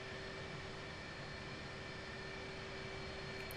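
Steady jet engine drone and whine from an aircraft taxiing toward the runway in the combat flight sim DCS World, a constant, even roar with a sustained tone and no break or voice.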